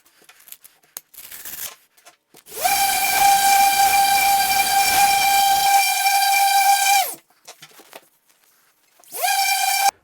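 A handheld electric paddle sander works over a small scrap board. Its loud, steady high-pitched motor whine runs for about four and a half seconds, cuts off, then starts again briefly near the end.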